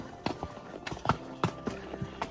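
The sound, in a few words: horses walking on a mountain trail, hoofsteps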